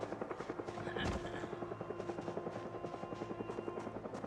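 A video game helicopter's rotor thumps in a fast, even rhythm, a steady chopping drone that holds loud and constant throughout.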